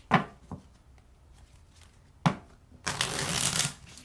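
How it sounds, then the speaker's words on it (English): Tarot cards being overhand shuffled by hand up close, a few soft flicks and slaps, then a longer rustling run of cards riffling together near the end. "You can overhand shuffle them."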